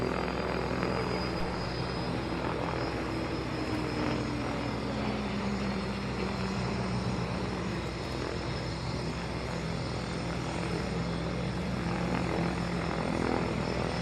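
A Royal Navy Merlin helicopter flies by, its engine and rotor drone loud and steady throughout with a faint whine above, and no voices.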